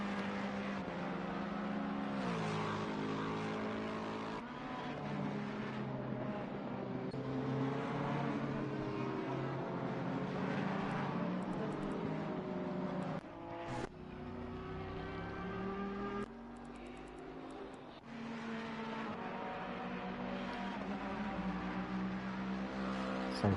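Race cars lapping the Indianapolis circuit in a sim-racing league event: loud, continuous engine drone with rising and falling pitch as cars pass close by, broken by a couple of sharp shifts and dips.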